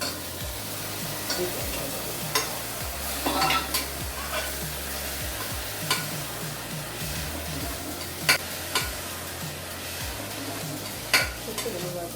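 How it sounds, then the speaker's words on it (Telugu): Mutton keema with nalli bones frying in a pan while being stirred, with a steady sizzle under repeated scraping and clinking of the spoon against the pan and no speech. "ఇది మనం బాగా మిక్స్ చేసుకుంటున్నాం, లేదంటే కీమా కదా ఉండలు ఉండలు కట్టేస్తూ ఉంటుంది"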